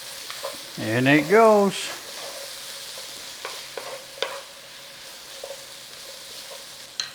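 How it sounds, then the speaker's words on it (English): Garlic fries in a pan for braised steak with a soft, steady sizzle, punctuated by a few sharp utensil clicks and taps; a brief spoken phrase comes near the start. "Little 30 seconds on that garlic and then turn it all in."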